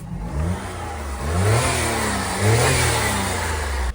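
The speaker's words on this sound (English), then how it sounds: "Give it a couple of revs." A small kei car engine at a Japanese auction revs up twice, rising and falling in pitch, loud and close, with a steady idle between the revs.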